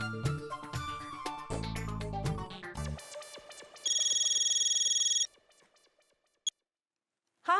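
A telephone rings in a comedy sitcom home, electronic ring bursts and tones repeating, then a steady bright ringtone that cuts off into near silence with a couple of short clicks.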